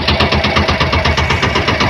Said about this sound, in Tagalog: medyo malakas kasi yung tunog ng makina namin